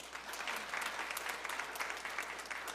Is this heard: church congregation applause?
yes